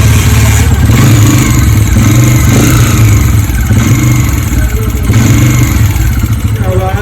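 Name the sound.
motorcycle engine running with noise problem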